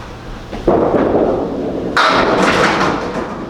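A bowling ball rolls down a lane and crashes into the pins at a King of the Palace bowling event, a loud low rumble building into a sharp, bright clatter of pins near the end, with no talk.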